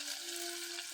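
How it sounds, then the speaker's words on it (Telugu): Onions and mustard seeds sizzle in hot oil, a dense steady frying hiss with a faint constant hum beneath. "ఈ ఉల్లిగడ్డ ఎర్రగా ఫ్రై కావాలి"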